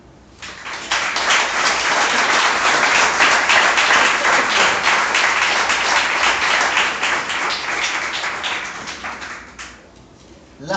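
A church congregation breaks into loud, sustained applause, a dense wash of many hands clapping that holds steady for about ten seconds before tapering off near the end.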